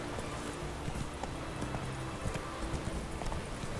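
Steady clip-clop of horse hooves trotting at a moderate pace, mid-distance, over a continuous backdrop of game ambience in The Witcher 3.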